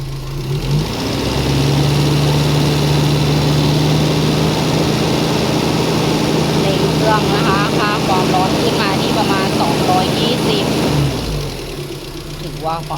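A Suzuki Vitara engine, recently serviced with a new air-conditioning evaporator and condenser, rises from idle to a steady loud revved drone for about ten seconds, then drops back toward idle.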